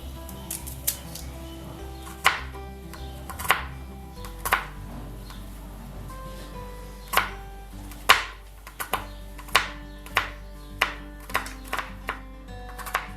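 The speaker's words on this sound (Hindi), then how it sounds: "सबसे पहले हम प्याज लेंगे और उसको इस तरह बारीक बारीक काटेंगे" A knife chops onion finely on a cutting board in crisp, uneven taps at close range, becoming a steadier rhythm of quiet knocks in the second half against a faint background hum.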